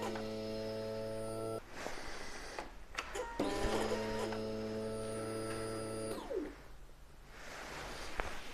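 A Suzuki GSX-R 750 L4 motorcycle with its ignition switched on: a steady electronic whine and hum with tonal buzzing, cutting out and resuming with a few clicks, heard close in a quiet room.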